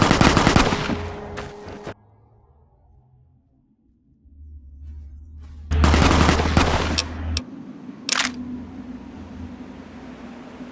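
Automatic gunfire in Fallout: New Vegas, with loud rapid bursts at the start, a quiet lull with low rumble, then another heavy burst and a few sharp later shots.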